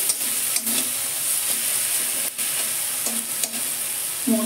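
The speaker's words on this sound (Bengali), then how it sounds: "মশলা ভাজা হয়ে গেছে" Ground cumin and ginger sizzle steadily in hot oil over a lowered gas flame, added to already-fried tomato for a vegetarian dal with tender coconut flesh; a continuous close frying hiss with occasional stirring scrapes, no voices.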